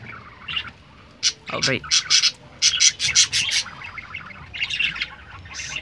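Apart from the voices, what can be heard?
budgerigars chirping in their cage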